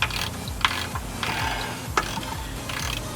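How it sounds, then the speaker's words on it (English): A 16mm ratchet with a socket clicks in short bursts as it tightens the oil drain plug on a Ford F-150 with a Triton V8, crisp and close with brief pauses between strokes. "16mm ratchet with a socket and just tighten it up."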